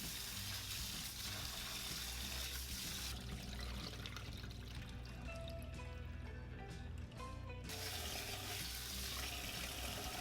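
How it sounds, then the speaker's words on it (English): Sticky rice being rinsed by hand in water, with steady close sloshing and trickling that continues throughout and brightens into splashier pouring midway. "Rinse the sticky rice for several times."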